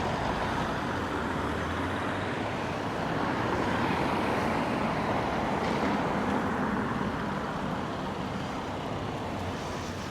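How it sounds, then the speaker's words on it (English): Steady road traffic circling a busy retail park roundabout, a continuous broadband rumble of cars, buses and trucks with no clear breaks, fairly loud and close throughout. "look at all this traffic all around the island."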